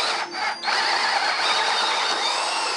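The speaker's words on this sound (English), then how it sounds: "Okay, I've drilled the hole as carefully as I can." A drill with a spade bit bores steadily through wood, a continuous gritty whir that dips briefly near the start and then grinds on at a loud, even level.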